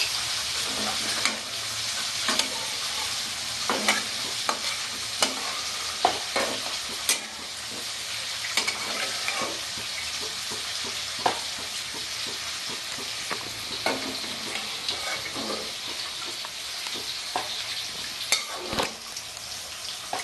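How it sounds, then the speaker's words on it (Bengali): Sliced onions for Bengali-style chicken biryani beresta fry steadily in hot oil, a constant close sizzle broken by repeated scrapes and stirs of a utensil against the pan, with no talking. "হয়ে গেছে আমার বেরেস্তা আমি এবার বেরেস্তাটা উঠিয়ে নেবো"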